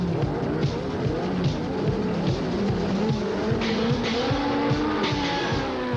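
Formula 2 racing cars set off on the formation lap at Suzuka in 1983, loud overlapping engines revving and droning continuously from several cars nearby, with no talking.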